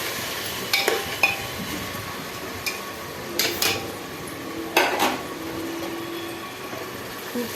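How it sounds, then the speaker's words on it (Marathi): Onion sautéing in oil in a pot while cooking chicken biryani in a pressure cooker: a soft steady sizzle runs throughout, broken by several sharp clinks and scrapes of a spoon stirring against the metal pot. "हे आता आपण व्यवस्थित तेलामध्ये छान परतू देऊया, जेणेकरून कांदाही असा थोडा गोल्डन होईल"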